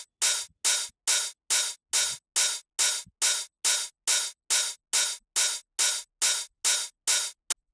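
Two layered hi-hat samples, one panned left and one right, play in a techno track as a steady run of about sixteen evenly spaced, hissy open-hat hits, crisp and isolated with clean silence between each stroke.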